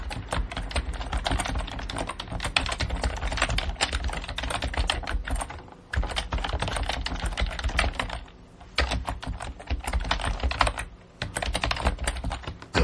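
Fast, continuous typing on a computer keyboard while writing a WordPress article, with close, dense key clatter broken by a few short pauses.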